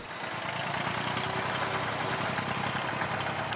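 A farm tractor engine from the late 1950s runs steadily in the open at a constant, moderately loud drone, with no voices over it.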